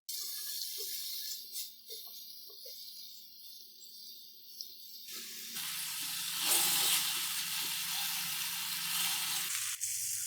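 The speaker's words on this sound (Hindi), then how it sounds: "7 से 8 मिनट हम चिकन को अच्छे तरीके से फ्राई करेंगे।" Marinated chicken pieces for shawarma frying in a hot pan, giving a steady close sizzle that jumps to a louder, fuller hiss partway through as the pieces are stirred or moved, with no talk.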